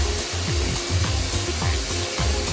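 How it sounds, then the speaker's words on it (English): Sand is sprayed at 4 bars of pressure onto a pair of jeans in a loud, continuous hissing blast, with a rhythmic mechanical pulsing underneath and no talk. "A worker sprays a pair with about 1 kilo of sand at 4 bars of pressure"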